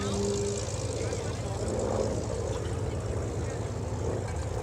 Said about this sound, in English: Looks like twin-tailed twin-engine OB-10.